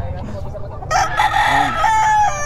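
A sweater gamefowl rooster crows loudly and close by, one long drawn-out cock-a-doodle-doo over a low background murmur at a bird market.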